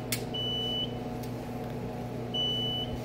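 Fire alarm panel with an activated pull station sounds two short, high electronic beeps about two seconds apart over a steady low mechanical hum.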